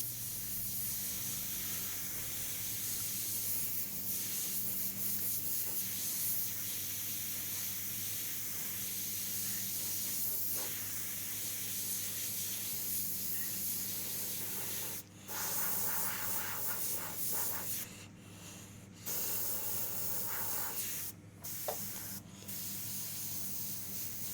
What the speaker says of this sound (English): the airbrush that I am using at the moment is the Iwata CMC+.